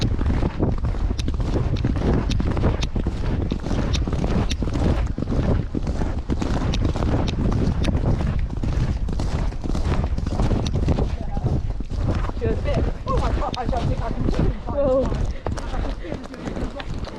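A horse canters along a bridleway track in the South Downs, its hoofbeats thudding as a rapid rhythmic patter under strong wind buffeting on the microphone, with people talking at times.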